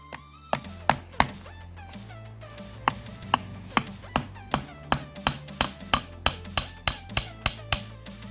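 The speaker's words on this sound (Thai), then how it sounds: "แล้วเราก็นำตะปูมาตอกลงไปเลยครับ" A nail is hammered into a wooden paddle, giving a string of sharp, close knocks at an uneven, fairly quick pace, with brief pauses between groups of blows.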